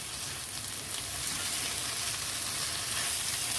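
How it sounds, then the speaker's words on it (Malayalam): Kothu parotta is stirred in a hot pan with cooked beef mixed in, giving a dense, continuous sizzle and hiss with no pauses, fairly soft and close. "ഇതിലേക്ക് ഞാൻ 1 കപ്പ് ബീഫ് വെന്തതും കൂടെ ഇട്ട് കൊടുക്കാം. ഇളക്കി കൊടുക്കാം."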